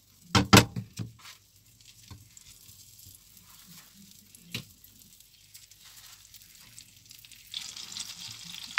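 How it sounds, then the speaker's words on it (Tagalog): Two tablespoons of butter melting in a preheated pan, with a few sharp clatters at the start, then a quiet, steady sizzle that grows brighter toward the end. "Nagpainit na ako na ang kawali at maglagay tayo ng 2 tablespoons of butter."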